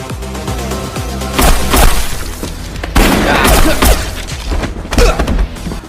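Close-range gunfire in an action film fight scene: a dense mix of sharp bangs, thuds and impacts over a rumbling score, with bursts clustered around the middle and toward the end.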